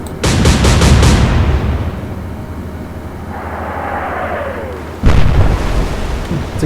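A warship's main guns fire a salvo in the naval game Atlantic Fleet, a loud booming blast at the start rolling into a long fading rumble, then another heavy report near the end.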